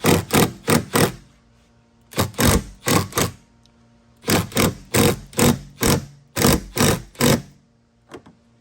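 An impact wrench snugs the rear exhaust bolts on a Sea-Doo 3-up Spark in loud, rapid hammering bursts, grouped in four runs of short pulses with brief quiet gaps between.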